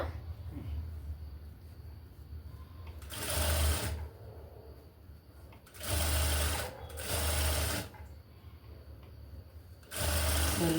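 A sewing machine stitches the lining of a designer blouse in three or four loud, close bursts of whirring, separated by short pauses of quiet room tone.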